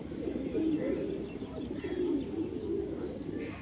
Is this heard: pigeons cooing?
yes